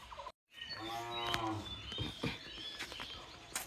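A cow gives a single drawn-out moo at moderate distance, faint birdsong and outdoor ambience around it, after a short silent gap at the start.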